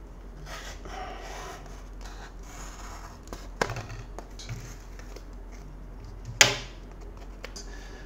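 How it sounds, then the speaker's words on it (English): Scissors cutting open the plastic packaging of a Samsung 32GB flash drive, with faint rustling and scraping and two sharp snips standing out, close up in a quiet room. "This one requires a scissors or a knife"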